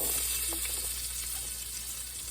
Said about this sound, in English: Right now I'm putting the onions in.